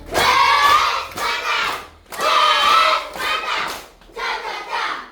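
Classroom pupils doing a rhythmic appreciation clap in three loud bursts with short pauses, voices shouting along with the claps.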